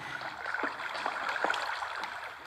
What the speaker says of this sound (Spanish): me acabo de encontrar... Una cascada de lava